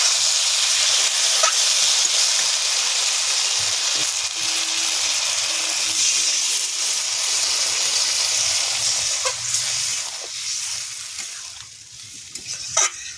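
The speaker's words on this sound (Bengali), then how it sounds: "কষা হয়ে গেছে, এবার জল দেবো।" Water meets a fried spice paste in the pan for a Bengali tilapia curry with beans and potato, raising a loud, sustained sizzle and hiss with occasional stirring clicks before it settles lower.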